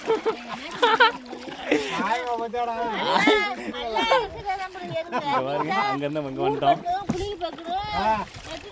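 A boat moves through water with soft splashing and sloshing, mostly under continuous, lively voices talking nearby.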